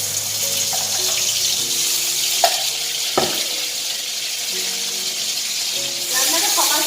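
Food cooks in olive oil in a pan at home, giving a steady sizzling hiss with a few clanks and scrapes of stirring throughout.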